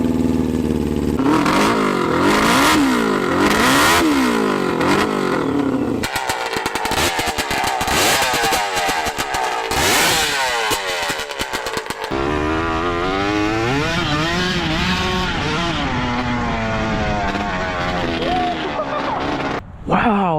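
A homemade three-wheeler's loud, raw engine revs hard and repeatedly, its open, unmuffled exhaust roaring and crackling as the pitch climbs and falls, with voices faintly under the noise.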